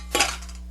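Metal pans from an old MSR Alpine 2 stainless steel cookset clank together in one brief, bright clatter, a few quick knocks and rings that fade fast into quiet.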